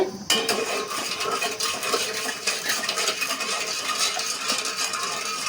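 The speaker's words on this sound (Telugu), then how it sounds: "మొత్తం కలుపుకుంటా ఉండాలి, లేకపోతే గడ్డగట్టుద్ది." A pot of sugar and water is stirred with a spoon, giving quiet, irregular scraping and clinking against the metal. The stirring carries on throughout at a low level, alone with no talk.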